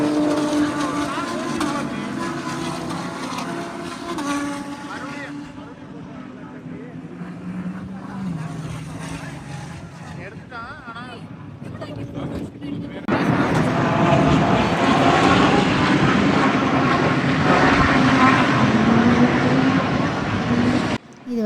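Racing cars sweep past on a circuit during a car race in the Netherlands, a loud continuous engine roar that builds sharply as the pack closes in, heard from trackside with crowd noise and voices underneath.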